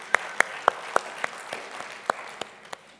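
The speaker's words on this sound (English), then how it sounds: "Yes, you may applaud." Sparse clapping from a church congregation during a Palm Sunday service, a handful of distinct claps spaced out over a few seconds, fairly quiet and thinning toward the end.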